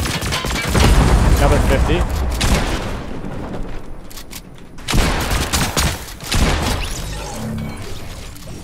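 Rapid bursts of gunfire from a gun in the video game Fortnite crack repeatedly, with booming hits and a brief lull before more shots, while someone talks over the action.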